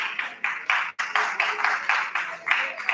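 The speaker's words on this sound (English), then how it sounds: "A round of applause." A small audience at an in-house technical session claps in brief, rhythmic bursts, with individual hand claps distinct and fairly close, briefly broken by a short gap.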